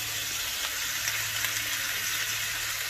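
Chicken stuffed with spinach and cheese sizzles steadily in a pan, a continuous close hiss of frying with no talk over it.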